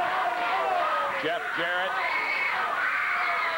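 A wrestling crowd at a 1987 CWA Memphis championship show roars and cheers steadily in the arena, a dense sustained swell with a commentator talking over it throughout.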